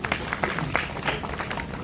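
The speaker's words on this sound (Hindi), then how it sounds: "तालियां सर सब एक बारी" An audience at a talk on Ayurveda and weight loss claps in a brief, fairly busy round of applause, close and moderately loud.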